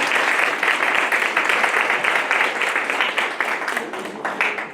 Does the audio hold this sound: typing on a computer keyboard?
no